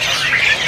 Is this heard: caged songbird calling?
yes